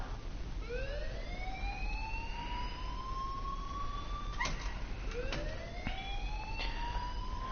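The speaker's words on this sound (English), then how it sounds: "please turn off that alarm since that's your job" A school alarm blares in the game Life Is Strange, with repeated rising, wailing tone sweeps over a steady background and a few sharp clicks, sounding loud and continuous, with no voices.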